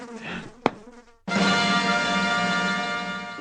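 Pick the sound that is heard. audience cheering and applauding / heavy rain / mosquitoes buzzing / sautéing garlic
mosquitoes buzzing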